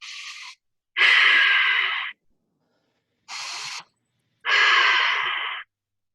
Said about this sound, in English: when you breathe out, you're kind of trying to make a sound like you're going to fog up glass